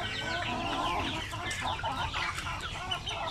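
A flock of chickens being readied for shipping clucks continuously and densely, with many overlapping calls close by and no talking.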